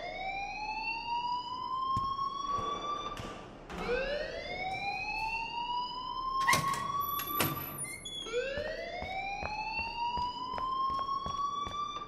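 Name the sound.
alarm ringing in the video game Life Is Strange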